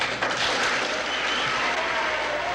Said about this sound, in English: They applauded the parent of a student who had been beaten up